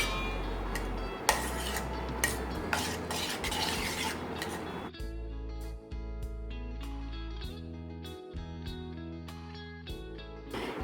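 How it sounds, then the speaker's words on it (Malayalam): A spoon stirs grated coconut into melted jaggery syrup in a metal pot for a ragi adai filling, giving steady scraping and clinking against the vessel with occasional sharper knocks, close and continuous throughout. "ഇനി ഇതൊന്ന് മിക്സ് ചെയ്ത് കൊടുക്കാം."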